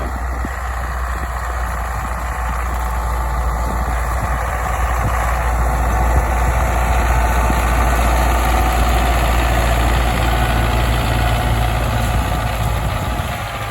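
A freshly repaired diesel tractor idles in a field during spring barley sowing, a loud, even low rumble running steadily throughout with no voices.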